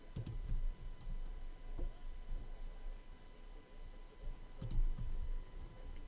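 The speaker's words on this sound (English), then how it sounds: "I'm going to click down here and pick" A computer mouse gives soft clicks, a few single presses spread across a quiet room tone. They are faint and close.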